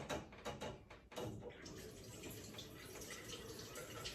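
Faint water running from a tap into an empty toothpaste tube, a soft steady trickle after a few brief knocks and splashes at the start.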